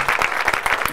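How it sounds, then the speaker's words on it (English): A crowd at a wedding fayre fashion show applauds the host, a brief, lively burst of clapping with distinct individual claps, close and fairly loud, with some voice mixed in at the end. "Let's give him a round of applause."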